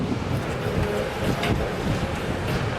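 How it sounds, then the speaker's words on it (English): Big, heavy ocean waves at a top surfing beach roll and wash in a dense, continuous roar of surf, mixed with wind buffeting the microphone. "Really big, menacing those waves, aren't they?"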